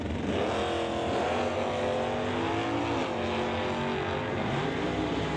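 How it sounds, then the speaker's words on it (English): Two cars launch off the line side by side at a Stock/SS class drag race, one of them a Barracuda and the other a Mustang, their engines roaring together and climbing in pitch as they pull away, loud and constant throughout. "Wheels up, launch a pair"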